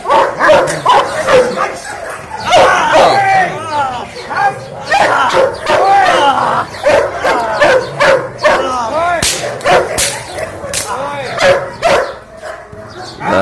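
A muzzled dog yips, growls and whimpers in muffled, agitated bursts, close by, during dog training, while people talk excitedly over it.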